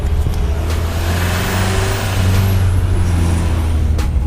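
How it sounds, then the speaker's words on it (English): A VW T25/T3 Vanagon van's exhaust rumbles loudly and steadily up close, with a deep droning note and a faint high whine over it. "Check the exhaust out."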